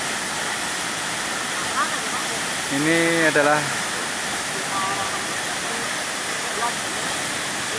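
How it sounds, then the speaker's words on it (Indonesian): The Batulantang waterfall roars as a loud, steady rush of falling water that fills the whole scene, and a voice speaks briefly over it near the middle. "air terjun yang sangat istimewa di sini"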